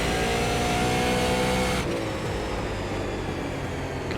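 A Super Late Model race car in the iRacing sim roars at high revs, then the engine note drops abruptly as the throttle lifts, leaving a lower, rougher drone for the rest of the clip.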